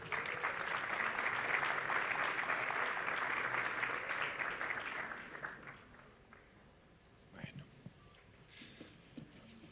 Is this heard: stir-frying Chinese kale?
no